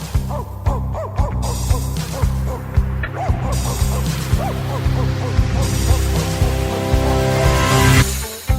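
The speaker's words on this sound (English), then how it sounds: "what are you barking at?" Sprocket, the puppet dog from Fraggle Rock, gives repeated barks and yips, likely voiced by a performer, over loud music with a steady rhythm.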